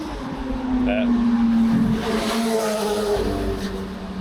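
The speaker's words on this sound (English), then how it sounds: "So many motorbikes" Motorbikes pass in busy street traffic, their engines rising and fading close by with a steady background road roar, and a person talks over the traffic.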